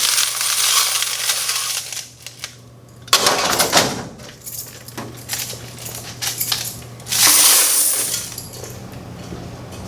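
Coins clatter and jingle from a laundromat change machine into a tray in irregular bursts of metallic rattling, with a steady background hum throughout and no talking.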